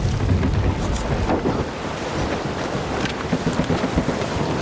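A stormy squall at sea in Assassin's Creed Rogue roars with heavy rain and gusting wind, broken by deep rumbling thunder, a dense, loud and continuous wash of weather with no voices.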